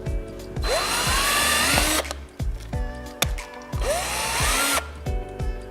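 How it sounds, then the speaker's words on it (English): A power drill whirs up to speed twice in long loud bursts, its pitch rising as it bites through an angle iron frame eyelet, with ratcheting clicks between runs. "you drill a hole in the eyelets"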